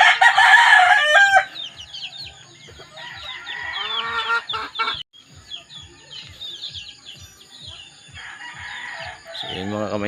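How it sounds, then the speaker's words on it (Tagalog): Chickens cluck steadily in a rhythmic series while a rooster crows loudly nearby, with scattered chirps and other fowl calls around them. "Checking na naman tayo ng ating mga alagang manok."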